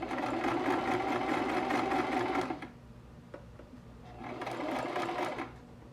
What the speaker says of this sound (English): we're gonna sew a little amount, keep going a little bit